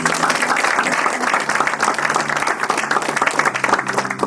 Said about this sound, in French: Est-ce qu'on peut acclamer Jésus pour ça?